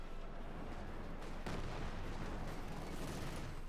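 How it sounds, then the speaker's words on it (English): Mortar fire in the real-time strategy game Company of Heroes 2, heard as dull booms and crackling shots over a dense, continuous battle din, with one stronger impact in the middle. "We got some mortar fire out here from Startac."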